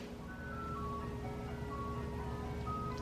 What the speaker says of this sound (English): And now we have an ice cream truck.